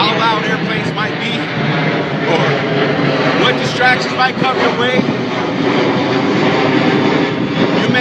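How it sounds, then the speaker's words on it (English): An airplane passes overhead with a loud, continuous roar throughout, while a man keeps preaching over the noise. "how loud airplanes might be"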